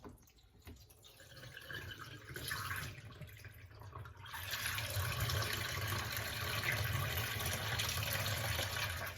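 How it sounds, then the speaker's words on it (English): Water drains out through the released drain plug of a 360 spin mop bucket set up on a sink, a steady splashing rush that grows louder and fuller partway through and keeps running. "We'll just let that drain out."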